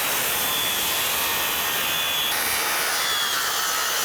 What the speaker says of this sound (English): I can cut all my stringers